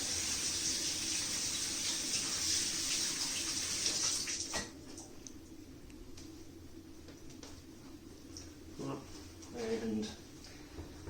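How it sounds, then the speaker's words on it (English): Warm tap water runs steadily while hands are scrubbed under it, a broad hiss that stops abruptly partway through, leaving faint handling noises and a brief voice near the end. "wash all over our hands, in between the fingers, fronts, backs, up the wrist a little bit"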